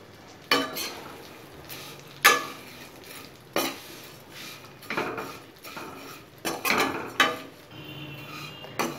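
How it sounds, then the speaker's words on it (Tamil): Vermicelli roasts in ghee in a pan with a soft sizzle under repeated scraping and clinking strokes of a utensil stirring against the metal, in irregular bursts. "அடுத்ததா இதே நெய்யில நம்ம சேமியாவை வறுத்துக்கலாம்"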